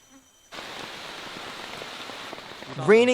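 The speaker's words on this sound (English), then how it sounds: "Rainy day in forest." Rain falls steadily in a Florida rainforest, a soft even patter on leaves starting abruptly after a quiet moment, with a bird call breaking in near the end.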